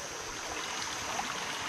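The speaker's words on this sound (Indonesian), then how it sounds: "kita sedang berada di Sungai Manyuan. Sungainya kecil tapi jernih." A small, clear river in the middle of a garden or plantation flows in a steady, even rush that fills the short stretch, with no voices.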